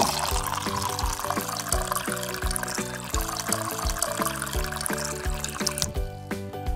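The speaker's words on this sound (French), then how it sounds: "On verse de l'eau." Water pours steadily into a doll's bath toys, a continuous trickling splash with a rhythmic undercurrent of background music, ending abruptly.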